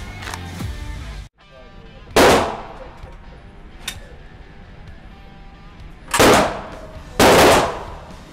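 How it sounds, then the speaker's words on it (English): A Rock Island subcompact double-stack 1911 pistol in .45 fires several loud, sharp shots outdoors with gaps between them, each ringing out with a short echo. "We're shooting a subcompact double stack 1911 chambered in 45 by Rock Island."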